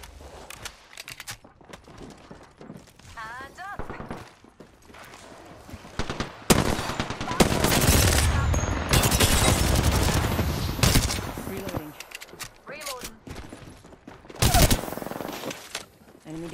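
Bursts of automatic gunfire in an Apex Legends battle royale match, with heavy sustained shooting mid-clip and sharper volleys later, loud and up close, mixed with a player talking over the action.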